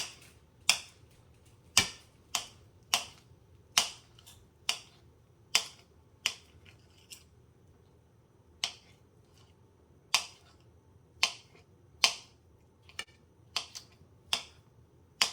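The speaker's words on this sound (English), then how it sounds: "I'm gonna actually just dice this up a little bit more" Knife chopping and dicing food on a cutting board: a steady series of crisp, close taps with short gaps, with no speech.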